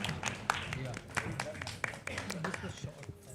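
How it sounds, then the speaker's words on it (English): Audience applause at a press conference for an Indian street night-racing league in Chennai, a dense spread of claps filling the room with a few sharper accents, a voice faintly present underneath. "can we have a round of applause for RPPL"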